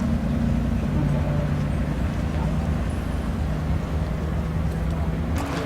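Mud-covered Datsun 260Z historic rally car on the Oulton Park skid pan, its engine a steady loud rumble throughout with continuous low drone and broadband roar, no speech over it.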